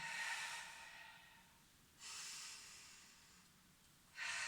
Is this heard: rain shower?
no